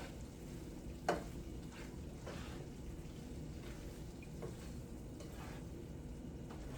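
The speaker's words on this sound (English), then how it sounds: "give it another good stir. That cream cheese is melting and it's starting to thicken up" Cream cheese and green beans are stirred in a skillet for a keto side dish, with a soft, steady sizzle and faint scraping throughout and one sharper clink of the utensil early on.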